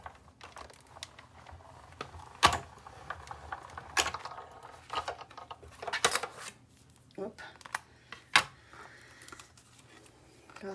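A Saffron die cutting machine runs larger paper pieces through, giving a string of sharp clicks and mechanical knocks with soft rustling between them, close and moderately loud, while a person talks in the background.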